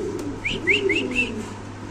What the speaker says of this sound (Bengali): এখানে আছে একজোড়া কালো ডেনিশ কবুতর